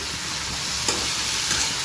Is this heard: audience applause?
no